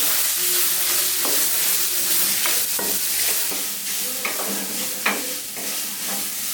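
Grated coconut sautéing in a hot pan for a chickpea dish, a steady broad sizzle with scattered sharp clicks of a spoon scraping and stirring, fairly close and continuous without speech.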